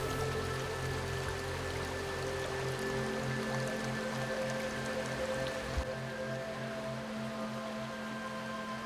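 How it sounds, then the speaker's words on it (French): The small river Rak flows deep at the bottom of a gorge among dolines beneath a great natural bridge, giving a steady, even rush of water that holds a constant level throughout, with no voices. "Tout au fond coule la petite rivière Rak"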